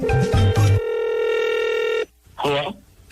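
Telephone tones sound during a radio prank call: a few short keypad beeps, then a steady ringing tone lasting over a second, followed by a voice answering close to the line.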